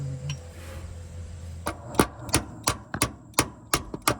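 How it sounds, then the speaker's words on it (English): Sharp metallic strikes from an improvised hammer snugging a hold-down bolt on a 1955 Chevy 6400 dump truck ring out in a steady series of about ten blows, close and loud, after a brief stretch of quieter background noise. "Anything's a hammer if you swing it hard enough."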